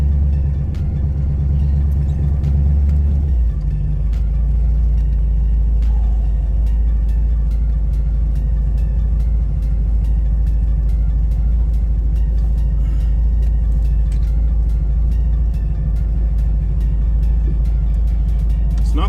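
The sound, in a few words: 1977 Avanti small-block Chevy engine idling, slightly loose lifter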